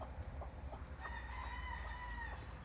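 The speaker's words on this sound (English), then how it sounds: "I hear all kind of other cock-a-doodle-doos." A rooster crows faintly in the distance, one drawn-out cock-a-doodle-doo rising over quiet farmyard background, with soft clucking around it.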